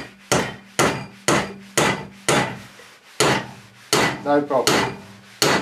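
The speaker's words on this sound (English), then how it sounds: "just see if it punches a nail in" An antique hammer drops repeatedly onto a giant 4-inch nail driven into wood outdoors, giving about ten sharp, evenly spaced knocks up close, with a brief spoken remark partway through.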